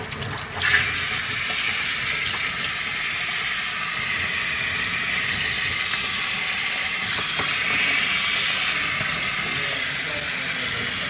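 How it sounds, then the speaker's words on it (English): Running water rinsing soap from a Goldendoodle puppy during a bath, a steady close hiss and splash of spray that continues unbroken throughout. "using the water, we're just going to rinse all of that soap off"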